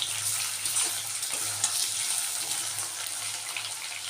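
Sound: frying potatoes in oil

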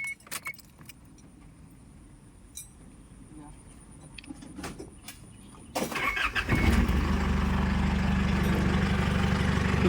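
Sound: car engine starting and warming up

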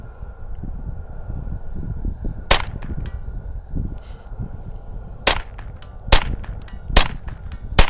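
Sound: Derya Arms TM22 .22lr rifle shots hitting targets

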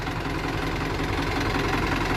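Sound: tractor engine running while ploughing

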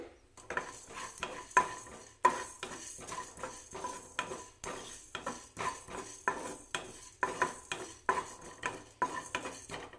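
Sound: cumin, fenugreek and coriander seeds dry-roasting and stirred in a kadai

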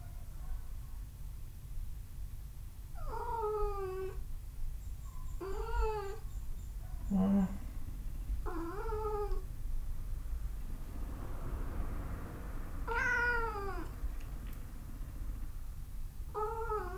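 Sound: cat meowing early morning to go outside

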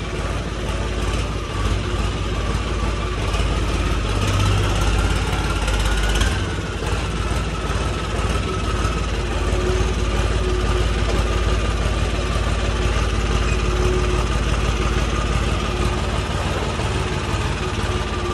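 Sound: tractor engine idling

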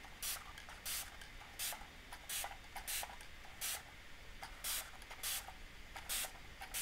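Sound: spray bottle spritzing water onto art paper

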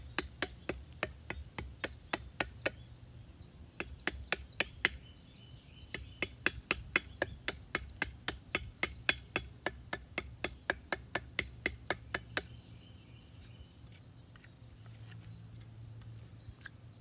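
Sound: hammering in a carved tent peg

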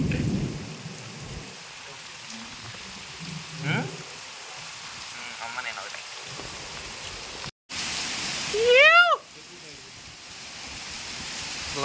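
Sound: heavy rain with thunder

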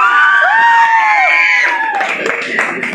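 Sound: crowd shouting and cheering at women's day seminar

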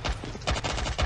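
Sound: gunshot in the video game Modern Strike Online

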